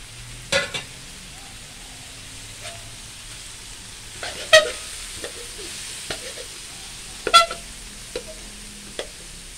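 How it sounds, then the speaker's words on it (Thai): Glass noodles stir-fried with holy basil in a hot pan, with a steady low sizzle and occasional scraping clinks of the spatula at irregular intervals, close and without talk. "เดี๋ยวให้ร้อนก่อนยายก็จะใส่วุ้นเส้นผัดลงไป เป็นผัดกะเพราวุ้นเส้น"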